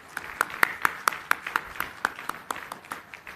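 At a university degree ceremony, a few hands clap in a sharp, evenly spaced rhythm, with crisp individual claps close by and no broad crowd roar.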